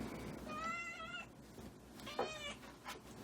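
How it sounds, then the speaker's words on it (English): A house cat meows twice indoors, two drawn-out tonal calls about a second apart, close and clear over a faint room hum. "That's a cat."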